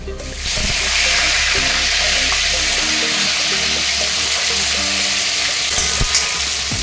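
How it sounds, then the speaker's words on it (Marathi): Tomatoes fry in hot oil for a prawn masala, giving a steady loud sizzle with occasional stirring scrapes throughout, no talking. "आता टोमॅटो देखील मी तेलामध्ये चांगले परतून घेणार।"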